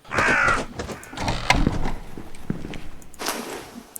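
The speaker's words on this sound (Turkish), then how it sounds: "Karga! Karga! Kargalar kötü haberci miydi?" Crows cawing in the horror video game The Radio Tower, a few harsh calls near the start and again later, with scattered footstep-like thuds between them and no talk over them.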